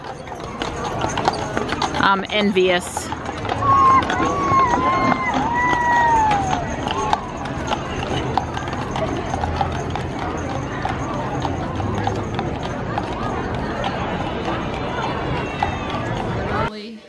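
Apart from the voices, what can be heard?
horses clip-clopping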